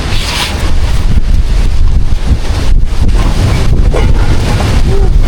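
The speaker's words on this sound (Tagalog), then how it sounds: "Lakas pa rin po talaga ng hangin." Strong typhoon wind roars straight into the microphone, a loud continuous buffeting rumble with gusty swells, heard near the sea during a storm, with no talking.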